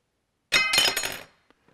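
A titanium guitar neck reinforcement rod is tapped once, giving a sharp, bright metallic ring with a short clattering burst that decays over about a second, followed by a couple of faint light ticks.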